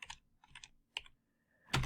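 Keys clatter on a computer keyboard in a few quick, close bursts separated by brief gaps, with no voices.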